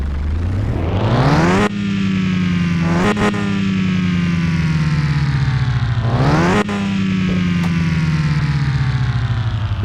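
A loud Toyota AE86 car engine in Car Mechanic Simulator 21 runs close up, revving and holding a steady drone, with two sharp blips of throttle that rise and fall back to a sustained hum.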